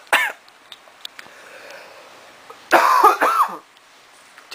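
A brief cough up close, then after a quiet pause a louder cluster of hacking coughs and throat clearing.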